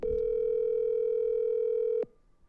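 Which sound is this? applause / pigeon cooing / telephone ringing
telephone ringing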